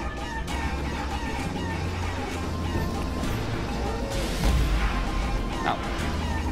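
In a video game speedrun, a chicken clucks and squawks over a dense, busy game soundtrack, with crashing hits and a brief flutter of effects near the end.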